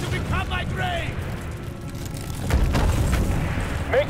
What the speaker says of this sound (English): Kurchenko had the place wired to blow